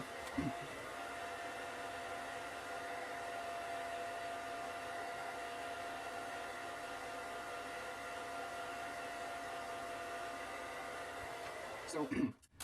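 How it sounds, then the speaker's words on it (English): A hair dryer blows steadily for about twelve seconds while a beard and mustache are dried, a loud constant whooshing hum that switches off with a short thump at the end. "When you blow dry it, it like pushes your mustache in"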